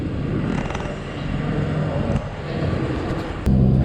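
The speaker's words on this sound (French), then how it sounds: "c'est un tout petit avion, ça, il y a 20 personnes qui rentrent dedans" A small passenger airplane of about 20 seats in Cape Verde gives a steady, loud engine drone and hum heard from inside the cabin, with a slight surge near the end.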